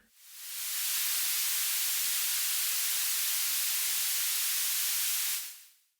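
Steady white noise through a high-pass filter set around 1800 Hz makes a thin, bright hiss with no low rumble. It fades in, holds level for several seconds, then fades out.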